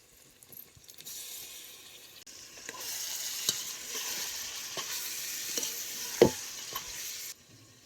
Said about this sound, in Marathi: ते मुरत घातलेलं सोयाबीन आता हे तेलात खालवर करून घ्यायचं